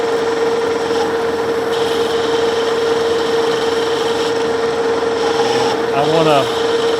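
Metal lathe cutting a recess into a threaded chuck adapter, with a steady machine hum and a constant tonal whine throughout, close and moderately loud, with a brief rising chatter near the end.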